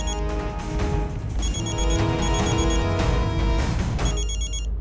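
A telephone rings inside a home in a TV drama, its repeated electronic ringtone pattern steady and fairly loud over a low background hum, with no talk.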